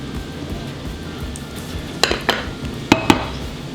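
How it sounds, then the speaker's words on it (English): Sour cream, mayonnaise and cream cheese go into a big bowl for homemade French onion dip. A low scraping background is broken by four distinct close clinks of a utensil against the bowl. "So in a big bowl, we're going to go in with our sour cream, our mayonnaise, our cream cheese"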